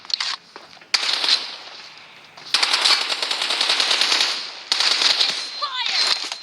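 Rapid automatic gunfire in the mobile game PUBG Mobile, long sustained bursts with brief pauses, loud and close, with a voice talking over the shooting.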